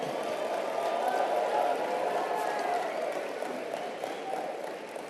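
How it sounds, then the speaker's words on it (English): Steady applause from an audience at a motivational talk, dense and continuous clapping that holds for several seconds before easing slightly toward the end. "Give yourselves a round of applause."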